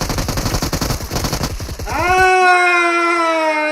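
Video game gunfire rattles in a loud rapid automatic burst lasting under two seconds, then gives way to a steady ringing electronic tone.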